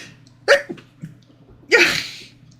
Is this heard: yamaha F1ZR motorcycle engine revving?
no